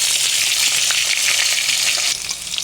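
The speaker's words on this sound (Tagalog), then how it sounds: "Last batch na to na ating ipiprito." Tofu frying in a pan, a bright, dense sizzle with crackling spatter that runs continuously and close, easing slightly near the end, with no talking.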